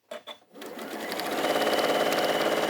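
A sewing machine stitches fabric while reverse stitching a seam during quilting. A couple of soft clicks come first, then the motor hums up into a fast, steady, close-up whir of needle strokes.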